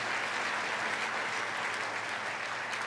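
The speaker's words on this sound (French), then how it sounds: "Give a hand clap to the Lord." A congregation claps hands together at a worship service, a dense and steady wash of applause holding at the same loudness from start to end, with no voices rising above it.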